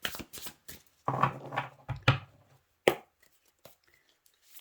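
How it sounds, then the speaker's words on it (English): Tarot cards are shuffled close up in several quick riffling bursts, followed by a few soft taps and near silence. "let's get a good shuffle here"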